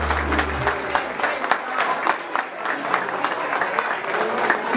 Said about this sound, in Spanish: El aplauso para Sofi, por favor.